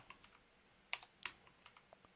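Typing on a faulty computer keyboard during mobile app programming, sparse, sharp key clicks in an irregular rhythm, a few louder strokes among soft taps, quiet and close with no talking.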